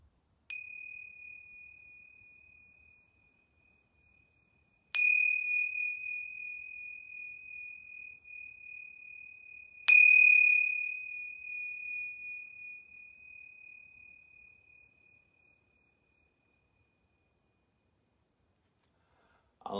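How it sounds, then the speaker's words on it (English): A yoga bell is struck three times at even intervals about five seconds apart, each clear, ringing tone sustaining and slowly fading into silence in a quiet room. "Now I'm going to ring these yoga bells 3 times."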